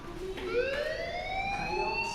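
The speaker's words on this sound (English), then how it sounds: "do you hear that fire alarm?" Fire alarm sounding in the Life Is Strange video game: a steady electronic siren-like tone with rising harmonic sweeps, loud and continuous throughout, with no talking over it.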